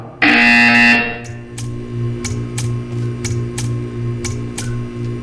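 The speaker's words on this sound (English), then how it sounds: "When you hear the buzzer, stare at the art." A loud electronic buzzer in the video game Portal 2 blares for about a second, followed by a steady hum and a string of regular ticking clicks.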